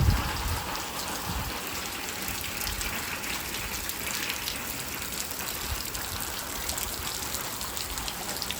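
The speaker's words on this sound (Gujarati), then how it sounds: "હાલ પણ ચાલુ વરસાદ" Steady rain pours down at a farm, a dense even hiss of drops on surfaces that continues unbroken and fairly loud throughout.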